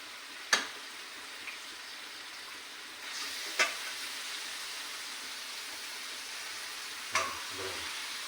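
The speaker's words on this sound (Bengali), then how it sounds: "এবার মশলা ভাজা হয়ে গেছে, এবার মাংসটা দিয়ে দিলাম।" Chicken pieces fry with spices in a pan for chicken jhal tarka, giving a soft, steady sizzle with a few sharp clicks of stirring or the pan being handled.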